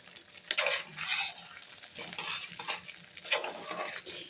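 A utensil scrapes and clinks against a pan as paneer and chopped coriander are stirred into a thick cooked poppy-seed curry, in several uneven bursts over a faint sizzle.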